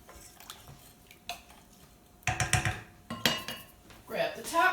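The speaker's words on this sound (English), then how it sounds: "Give it another stir." A utensil clinks and scrapes around a pot of orzo being stirred, a few sparse taps followed by busier metallic stirring that grows louder toward the end, close up, with no talking.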